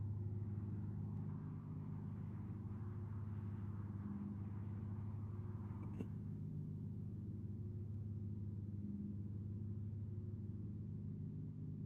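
Steady low drone of a BMW E36 engine in Assetto Corsa, a constant humming rumble at a fairly even pitch held throughout with one faint click midway.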